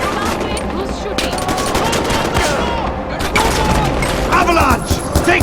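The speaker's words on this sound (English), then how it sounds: "Who's shooting?" Far Cry 4 gunfire: dense bursts of automatic fire and scattered shots crackling over a rumbling battle din, loud and continuous, with shouting voices mixed in.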